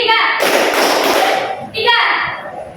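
A group of children in a classroom counting-clap game claps together in a dense burst of hand slaps, with their voices chanting before and after.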